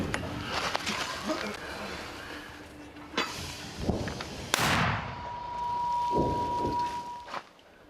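Several heavy booms with a sharp blast and long rumbling decay, mortar rounds firing nearby amid outdoor noise and a faint tonal hum.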